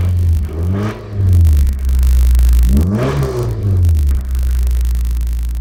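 A 1992 Nissan 240SX engine with rod knock revs twice, each rise and fall clearly audible close up, idling with a rumbling clatter between revs.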